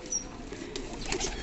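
Fancy pigeons cooing softly in a brief, faint low murmur against a steady background hum.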